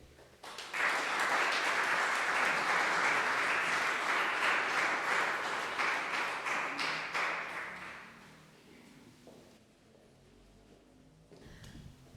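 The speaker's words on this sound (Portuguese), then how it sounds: "Peço mais um aplauso para este primeiro coletivo de poetas" Audience applause for a collective of poets at a poetry prize event, a sustained loud burst of clapping lasting several seconds before fading away into quiet room sound.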